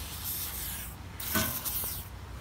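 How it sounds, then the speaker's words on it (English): Several short hissing bursts from a lubricant spray can on RV steps sound close by over a steady rushing background of wind. "so I'm gonna go ahead and lubricate these steps a little bit as well."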